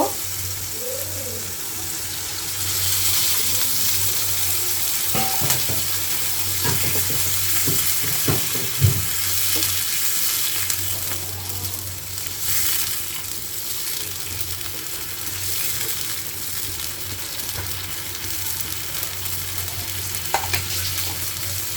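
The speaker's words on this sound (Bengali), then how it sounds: "মশলাটা আমার কষানো হয়ে গেছে একদম এবার জল দিয়ে নেব" Water poured into a pan of fried spice paste for a pabda fish dish, giving a steady hissing sizzle with stirring clatter and occasional utensil knocks, close and fairly loud throughout.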